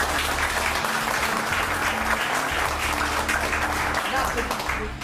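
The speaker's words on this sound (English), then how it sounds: "we need a big round of applause for Mike Phillips right here." Audience applause at a car detailing class during a detailing event, steady thick clapping in a room at full strength, tapering slightly at the end, with low voices and hum underneath.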